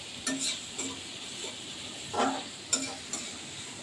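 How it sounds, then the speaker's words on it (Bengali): Onions frying in a pan until browned, heard as soft sizzling with a few scraping stirs and light clinks of a utensil against the pan, close and fairly quiet, without speech. "পেঁয়াজটা ভেজে ভেজে নেবো লাল করে একদম ভেজে নেবো"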